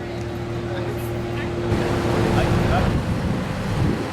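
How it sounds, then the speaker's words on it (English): Cruise boat travelling down a river, steady wash of water and wind noise buffeting the microphone, with a low engine drone underneath and a faint voice. "We're now cruising down the river."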